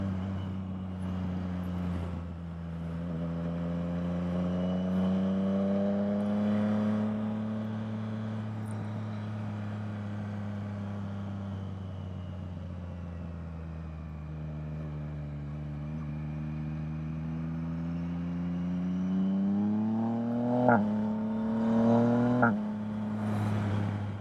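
A Yamaha MT-09 three-cylinder motorcycle is ridden, its engine drone holding steady then rising and falling through shifts with quick-shifter blips near the end, heard from close on board with wind rumble underneath and no talking.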